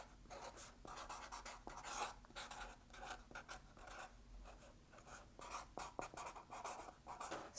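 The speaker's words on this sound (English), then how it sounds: "Another super simple thing to do is just write on them. I've got a Sharpie marker." A Sharpie marker squeaks and scratches across a kraft box in quick, rhythmic strokes, close and continuous with brief pauses between words.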